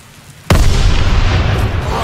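Explosion blasting open the gates in the World War II shooter game Call of Duty WWII: silence, then one sudden loud boom that rolls into a sustained rumbling roar.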